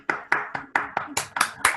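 A small group claps in a short burst of about eight distinct hand claps, fairly close and moderately loud, with no talking.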